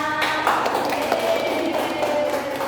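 Classroom applause for a student during a lesson, a dense, steady patter of many hands clapping together for under three seconds, close and fairly loud.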